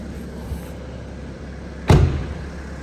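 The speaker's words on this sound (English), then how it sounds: "So we've got the engine running." A BMW 335d xDrive M Sport Touring diesel idles with a low, steady rumble; partway through, a single heavy car door thud breaks in, then the idle carries on underneath.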